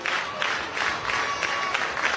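The crowd at a softball stadium for Oklahoma vs BYU in 2024 applauds and cheers in uneven rising bursts, a broad wash of sound throughout with a faint voice in the mix.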